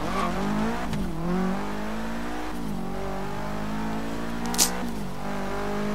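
A Lexus in Forza Horizon 3 revving hard, its engine note climbing and dropping through several shifts at close range, with a brief tyre squeal near the end and no talk over it.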